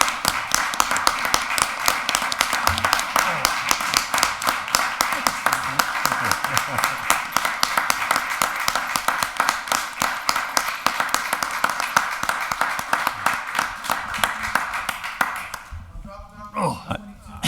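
A city council chamber audience gives sustained applause, dense rapid clapping from many hands that continues steadily and then stops abruptly near the end, followed by a brief voice.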